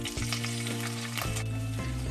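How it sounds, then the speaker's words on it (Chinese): Scallions fry slowly in oil over low heat in a pan, giving a continuous close sizzle and crackle, with steady hums running beneath it. "开小火慢慢炸葱油"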